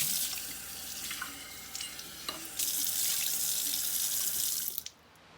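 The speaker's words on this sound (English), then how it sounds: "I just wanted to show you how to wash your mason jars." Steady tap water runs into a kitchen sink while a mason jar is washed, a close continuous hiss with occasional splashes and knocks, cut off abruptly near the end.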